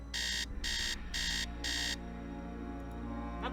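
An alarm clock in a Nancy Drew video game rings in four short, bright electronic bursts at an even rhythm, then stops, leaving a quiet background hum.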